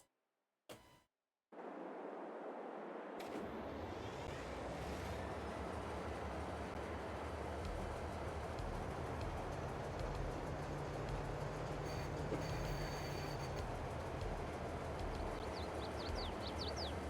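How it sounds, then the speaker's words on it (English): A train rolling along in the video game Farming Simulator 22, a loud continuous rumble with faint rhythmic clatter after a brief quiet start, steady for the whole stretch with no speech. "We need to get into that train to move this coal over to the other silo."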